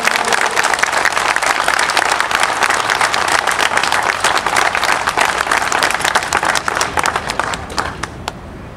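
Thunderous applause and clapping from a large rally crowd in Armenia, honouring the widows and mothers of fallen soldiers, sustained and dense throughout before thinning slightly at the very end.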